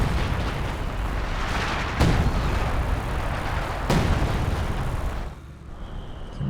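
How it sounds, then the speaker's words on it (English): Dense, sustained rumble of an artillery barrage in Company of Heroes 2, with two sharp louder blasts punching through the continuous booming before it thins out near the end. "That's the tail end of the sector artillery there"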